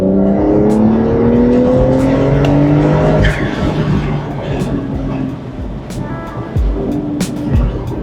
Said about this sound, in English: Turbo noises are addictive.